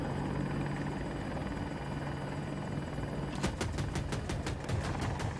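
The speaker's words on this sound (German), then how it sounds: "Heli kommt." A video game AH-64 Apache helicopter hums with a steady engine drone. Partway through, the rotor blades start a loud, fast rhythmic chopping, with no talk over it.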